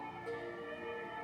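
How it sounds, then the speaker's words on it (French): Faint emergency sirens and alarms sound outside, a sustained distant wail with steady tones and no voices over it. "Je suis désolée pour le bruit dehors. Hein, il y a des alarmes, des sirènes."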